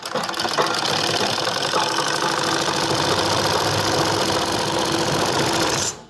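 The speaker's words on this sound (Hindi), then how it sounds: "ये हम डबल स्टिच इसको सिलाई को पक्का करने के लिए कर रहे हैं" Sewing machine running steadily to sew a double stitch on a straight palazzo, a loud continuous mechanical whirr with rapid needle clatter that holds for about six seconds and then stops abruptly.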